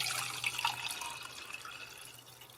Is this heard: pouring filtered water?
yes